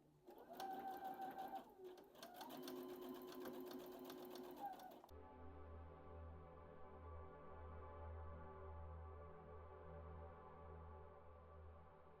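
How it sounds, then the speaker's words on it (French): A sewing machine runs a steady straight-stitch seam on the lining of a jacket, a continuous whirring hum close by for about five seconds, then stops, leaving a low room drone alone. "je vais piquer sur le long de la ligne de couture"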